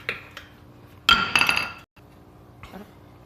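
Metal brake pad retaining clips clink and rattle as they are fitted on the front brakes of a 2015 Mercedes GL450, with one loud burst of scraping metallic clatter between quieter taps, close up.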